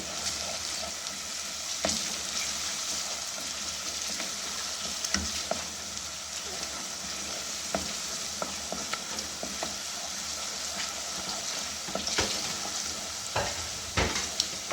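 Ginger-garlic paste frying in a pan with steady soft sizzling, punctuated by scattered scraping clicks of a spoon stirring, moderately close and continuous with no speech.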